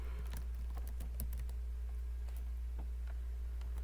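Code being typed on a computer keyboard, a quick irregular patter of key clicks over a steady low electrical hum, close and fairly quiet.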